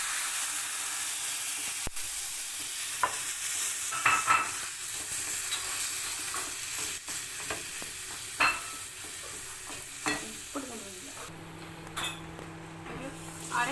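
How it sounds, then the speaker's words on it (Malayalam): Tamarind water is poured into a hot pan while making ginger curry, setting off a steady sizzle and simmer with occasional stirring clinks of a utensil against the pan, a low hum in the final seconds. "ഈ പുളിവെള്ളം ഇതിലേക്ക് ഒഴിച്ചു കൊടുക്കും."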